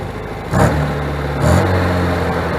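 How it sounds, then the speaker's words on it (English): An abandoned 1974 MGB GT with a British Leyland engine and low-slung exhaust pipe, running for the first time in 25 years, revs twice over a steady idle, the exhaust note rising sharply and staying loud and close. "How about a little exhaust sound?"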